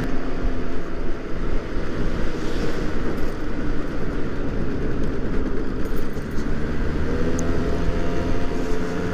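A scooter engine drones steadily while riding along, loud and close, with wind rumble and no break in the noise.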